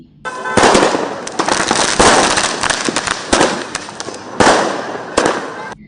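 Rapid bursts of firecrackers popping and crackling loudly, with dense clusters of sharp bangs and a few pauses between volleys.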